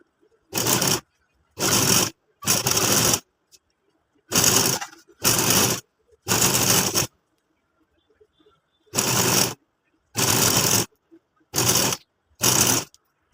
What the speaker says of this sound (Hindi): अब हम इसे इस तरह फोल्ड करके सिलाई लगाते जाएंगे।